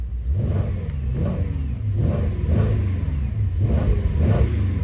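A 2025 Mercedes S63 AMG E-Performance sedan engine revs up several times in a row in park, each rise and fall distinct, close and fairly loud over a steady idle.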